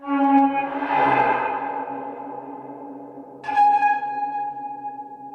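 Two eerie, drawn-out tonal creaks from a homemade creak machine ring out with heavy reverb, each swelling and fading into a long echoing tail.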